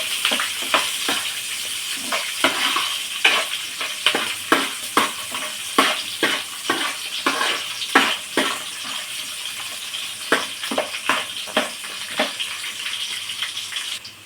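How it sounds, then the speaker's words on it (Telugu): Onion and green chilli pieces fry in a pan for vegetable biryani, with a steady sizzling hiss and a long run of quick scraping strokes as they're stirred, fairly close and clear with no talking. "ఉల్లిపాయ ముక్కలు పచ్చిమిర్చి ముక్కలు వేసుకున్నాము కలబెట్టుకోవాలి ఇవి ఇవి బాగా ఫ్రై అవనియాలి"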